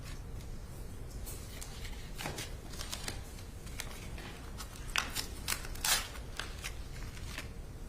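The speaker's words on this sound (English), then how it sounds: "can I have some scissors" During a murder trial, scissors cut open a package holding a fired .45 auto cartridge in the courtroom, giving a series of sharp snipping and rustling sounds over steady room noise, close and moderately loud.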